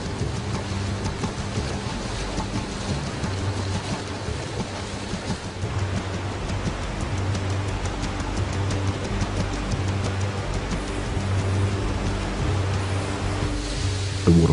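A waterfall in a hidden canyon in Jordan, a steady broad rushing roar of falling water that carries on unbroken and close throughout, with a faint low rumble beneath and no talk.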